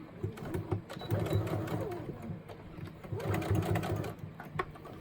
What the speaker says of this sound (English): I'm going to back stitch here a little bit.